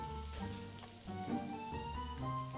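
Onions sizzle steadily in hot oil in a kadhai, a soft continuous frying hiss under background music.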